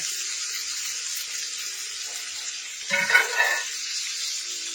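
Steak bites sizzling in a hot pan, a steady bright hiss of frying throughout with a brief louder flare of crackle near the end.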